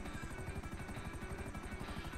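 Inside a helicopter in GTA, heard through ear-protection headsets: a steady, dense rotor thump and engine roar, muffled and continuous, heard up close.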